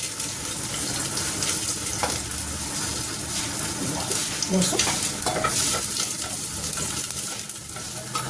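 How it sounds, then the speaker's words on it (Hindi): Steady, loud sizzling of garlic frying in hot mustard oil, with occasional scraping as it's stirred in the pan. "तेल गर्म हो गया, इसमें हमारा चला जाएगा लहसुन"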